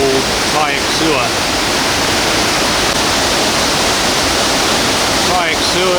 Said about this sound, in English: beautiful location with a lot of really impressive waterfalls